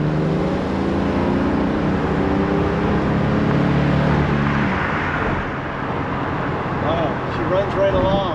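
A classic car on its first real test drive on new tires cruises along in traffic, its engine a steady droning hum that dips briefly, then swells again with passing road noise.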